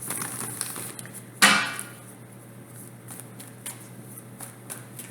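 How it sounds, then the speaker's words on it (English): Tarot cards are shuffled, a sharp riffle and snap standing out once near the middle, followed by soft rustling and faint handling sounds in a quiet room. "So I'm going to give this 3 quick shuffles."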